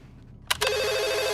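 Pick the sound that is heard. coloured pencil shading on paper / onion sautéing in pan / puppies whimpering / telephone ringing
telephone ringing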